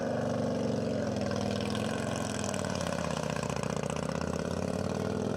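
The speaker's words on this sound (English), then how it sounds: "bike number 841, 1650cc sidecar, vintage on fuel, Foley and Rusak Racing" A 1650cc vintage racing sidecar motorcycle running on fuel at the Bonneville salt flats, its engine droning steadily and loudly with a rough, pulsing mechanical note, close by and without talking.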